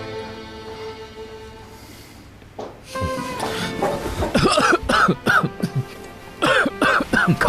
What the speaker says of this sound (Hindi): खांसी बढ़ गई है।